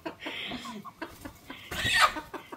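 Live native chickens clucking in short, uneven bursts close by indoors, with a louder flurry of squawking and rustling near the end.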